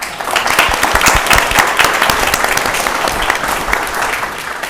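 Loud, sustained audience applause fills an awards forum for research and development ideas, dense clapping steady throughout with a few faint voices mixed in.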